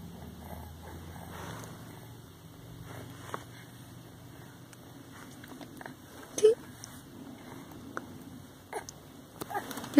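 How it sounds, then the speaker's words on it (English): Dog hiccuping inside a car, a few faint, short, sharp hiccups at irregular intervals over a low engine rumble, growing slightly louder toward the end. "You got the hiccups?"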